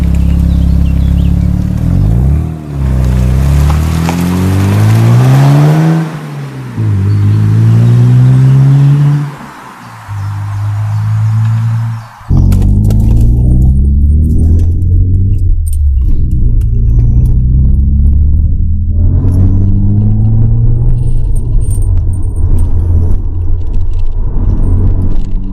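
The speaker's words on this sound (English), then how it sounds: "Feel that turbo kick in." Mazda RX-7 FD rotary engine with its turbo kicking in, droning loud and close as revs climb in repeated sweeps, dropping between pulls, then rising into a sustained strong acceleration with steady engine roar.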